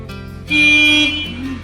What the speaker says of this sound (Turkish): Abi sen bir kornaya bassan onu.